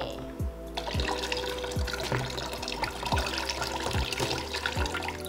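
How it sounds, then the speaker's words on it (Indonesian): Water is poured and splashed over a Corsair K68 mechanical keyboard, making a continuous close-up gush and splatter with repeated sloshing surges, loud and steady, with no talking. "Oke, ini beneran airnya udah Sisil tumpahin, nggak diedit."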